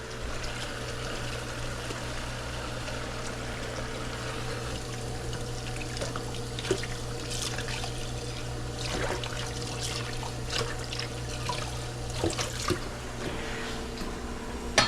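Tap water runs steadily over fish being washed in a kitchen sink, a continuous close splashing stream over a low hum with occasional light knocks, and no one speaks.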